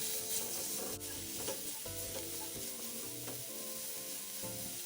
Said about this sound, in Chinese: 最后才将肉末加入，将肉末炒散，炒至色泽转白。